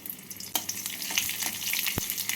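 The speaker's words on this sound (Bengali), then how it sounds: "তেলটাকে গরম করে নিয়ে এর মধ্যে দিয়ে দেবো ফোড়ন ফোড়নে দেবো দুটো কাঁচা লঙ্কা দেবো হাফ টিস্পুন পাঁচ ফোড়ন" Green chillies and panch phoron crackle in hot mustard oil, a steady close sizzle that runs throughout, with faint pops and one sharp thump near the end.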